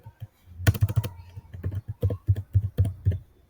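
Someone types code on a computer keyboard. Close, crisp key clicks come in quick uneven bursts with short pauses between them.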